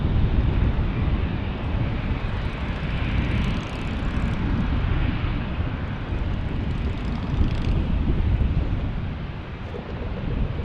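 A Lufthansa airliner at San Diego airport roars loudly and continuously with jet engine rumble, wind buffeting the microphone.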